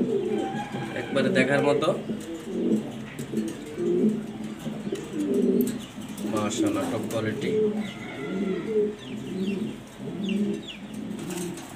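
A grizzle pigeon coos in repeated low, soft phrases close by, while someone talks steadily over it throughout.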